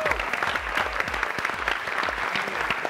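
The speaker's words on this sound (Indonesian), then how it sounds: "Oke, tepuk tangan buat Nelson semua" Studio audience applause on an Indonesian TV show, a steady, dense and fairly loud patter of clapping with low rhythmic thumps of background music pulsing beneath it throughout.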